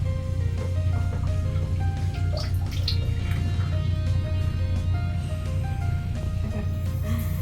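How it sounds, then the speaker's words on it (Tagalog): Water dripping at an irregular pace in a room at the Rizal Park Hotel in Manila, small plinks heard over a steady low hum, fairly close. "Parang tumutulo."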